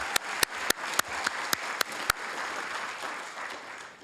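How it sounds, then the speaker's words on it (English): Applause from an audience at a volunteer awards ceremony for Hayward Public Library, sustained clapping with several sharp, louder claps near the front in the first two seconds before settling into a softer, even patter. "Let's give her a round of applause"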